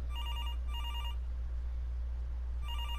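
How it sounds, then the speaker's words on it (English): A telephone rings in the point-and-click game Demetrios, two clear electronic ring bursts followed by a pause and a third starting, moderately quiet over a low steady hum. "That sound. The phone."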